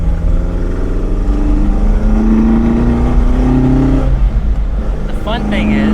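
Alfa Romeo 1750 GTV engine revving high from inside the car, a loud steady drone whose pitch climbs slowly and then settles, with a brief gear-change dip near the end.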